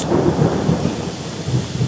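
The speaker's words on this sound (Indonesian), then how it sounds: "banyak sekali ini petir nih, suara geluduk ya" Thunder rumbling during a storm with rain: a deep, continuous roll of low rumbling mixed with broadband rain hiss, loud and sustained throughout without any voices.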